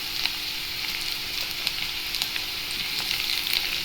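Finely cut carrots and beans frying in hot oil with onions for semiya kichadi, a steady close sizzle with faint stirring crackles, continuous and without talk.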